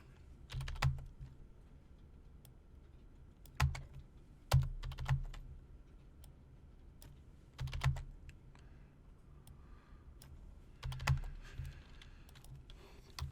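Bursts of typing on a computer keyboard come in short clustered flurries every few seconds, with quiet gaps between them, close and clear, with no talk.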